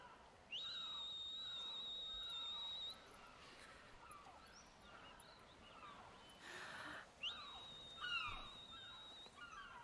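Two long, steady whistled tones from the video game Final Fantasy X, each holding for a couple of seconds, separated by a pause, with faint background noise in between.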